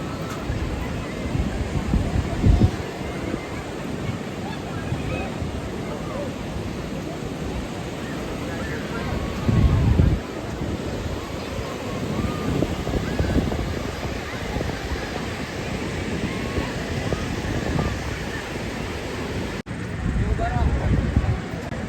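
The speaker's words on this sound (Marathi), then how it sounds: "आणि हा समुद्र किनारा." Sea surf rolling in at high tide on the beach at Ganpatipule, Konkan, with a roar, surges swelling every few seconds amid wind gusts and distant chatter from people nearby.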